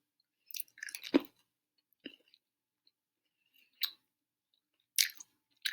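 Skittles candy being chewed close up, with several separate crunchy, wet bursts of chewing and biting spread out between quiet pauses, and no talking.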